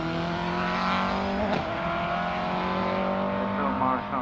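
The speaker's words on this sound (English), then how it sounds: "Beautiful car. Really lovely single-seater." A single-seater race car at the Loton Park hillclimb in the Midland Hillclimb Championship, its engine droning steadily with a sustained tonal whine throughout, fairly loud and continuous, with a commentator talking over it.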